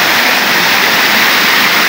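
Steady, loud rush of water pouring down from a mountaintop at a watershed, a dense continuous roar with no pauses and no voices.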